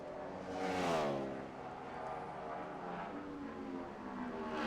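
A NASCAR stock car on track during 2010 qualifying at Phoenix roars past, its engine pitch sweeping up then easing as it runs off turn four, sustained and moderately close.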